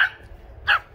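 A bigger dog gives two short, sharp barks about half a second apart, fairly close, with no talk between them.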